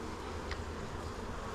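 A steady, dense buzzing of many honey bees at an open hive fills the air close by, a continuous droning hum with no voices.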